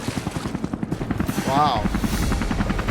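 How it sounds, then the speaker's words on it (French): Helicopters pass overhead in Rise of the Tomb Raider, a loud rhythmic rotor chop throughout, with gunfire-like bursts mixed in and a man exclaiming over it. "les hélicoptères qui passent sur le tête"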